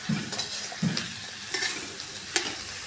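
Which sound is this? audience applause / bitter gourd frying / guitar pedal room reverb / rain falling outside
bitter gourd frying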